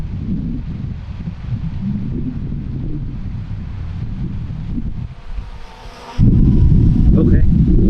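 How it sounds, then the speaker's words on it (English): Wind buffets the microphone outdoors during a drone flight, a steady low rumble that drops briefly and then returns as a louder, heavier gust for the last couple of seconds. "This wind doesn't help."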